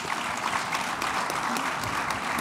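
Audience applause for the panelists at a cryptocurrency panel event, a steady dense wash of clapping across the whole moment with no talk over it, moderately loud and even throughout.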